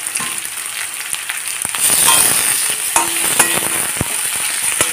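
Onions frying in oil in a pan, with tomatoes tipped in partway through, for an egg and potato curry: a steady bright sizzle that swells as the tomatoes land, dotted with spatula clinks and scrapes, no voices.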